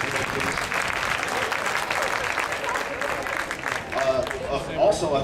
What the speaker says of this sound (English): So a big round of applause to all of you that helped out yesterday, please.